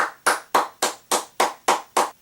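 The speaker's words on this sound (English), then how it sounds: "You get a nice applause from me." Eight sharp hand claps in an even, steady rhythm, about a quarter second apart, each one crisp and fairly close, with nothing else heard.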